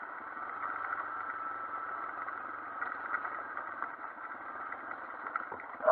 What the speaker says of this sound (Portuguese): Vamos dar uma voltinha nela pra vocês sentirem o que, que é andar numa XL assim